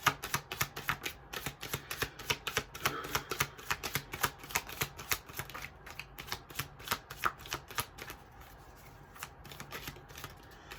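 Tarot cards are shuffled over and over, producing rapid riffling bursts in a steady irregular rhythm, close and fairly quiet, with no talking.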